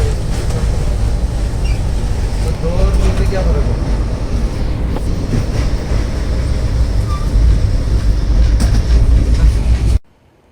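Haridwar–Bandra special train running during lockdown, a steady loud rumble of wheels and carriage with faint clickety-clack throughout, heard from aboard, cutting off abruptly at the end.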